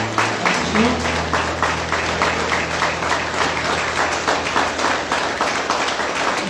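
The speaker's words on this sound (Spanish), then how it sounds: "Pueden tomar un aplauso al Señor." A church congregation claps for the Lord during an evening worship service, with dense, rhythmic clapping that runs steadily throughout over a low sustained hum from instruments.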